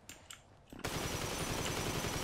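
Uzi submachine gun firing in GTA 5 Online, a few faint single shots and then a loud, dense sustained burst of rapid automatic fire that continues without pause.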